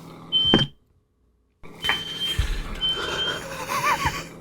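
A smoke alarm beeps: one short, piercing high tone, then a pause, then more shrill beeps over cluttered kitchen-like background noise.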